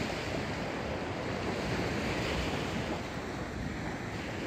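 Sea waves and surf wash continuously along the shore, a steady, full roar of breaking water with wind noise on the microphone and no voices.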